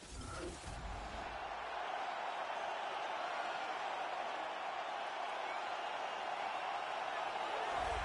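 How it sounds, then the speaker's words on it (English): A UFC crowd cheers as a heavyweight fighter walks out to the octagon, a sustained roar from a large arena audience that holds steady after a brief thud at the start. "the crowd pops as this guy makes the walk to the octagon"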